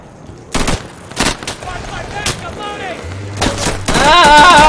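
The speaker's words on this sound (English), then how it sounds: "I hear gunshots." Bursts of gunfire ring out a few times amid sound effects in the video game Insurgency, sharp cracks spaced irregularly, with a louder rumbling effect rising at the end.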